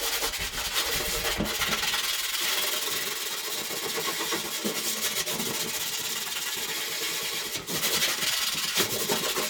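Rust is scrubbed off metal with Fast Etch, a steady abrasive rubbing and scraping texture running continuously in close, rough strokes with a few sharper scuffs, no talk over it.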